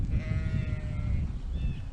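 A sheep on a farm lets out a long, wavering bleat at close range, then a shorter one, over a rumbling outdoor background.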